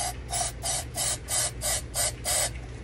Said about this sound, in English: for time's sake, I'm just going to spray it in here